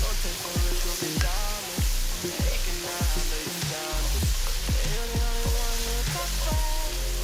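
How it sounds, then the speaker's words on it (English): Garlic, onion and pork sizzle steadily in a hot pot, with a continuous frying hiss and repeated scraping stirs of a utensil against the metal. "saute the garlic and onion with the pork about a couple minutes"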